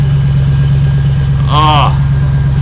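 Loud, steady idle of a Jeep Gladiator with a swapped-in Demon engine just after its first start, a deep constant rumble close by, with a brief voice heard over it.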